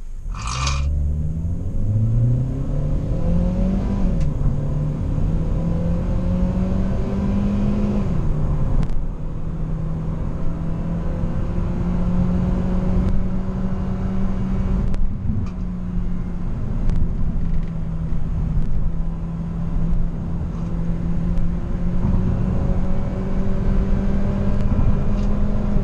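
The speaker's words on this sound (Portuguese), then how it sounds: "Agora a gente vai dar uma acelerada com o barulho original aqui no Veloster." A Hyundai Veloster 1.6 on its original stock exhaust, gearbox in manual mode, revs up with a steady rising engine note, then holds a sustained drone before easing off, close and loud throughout with no talking.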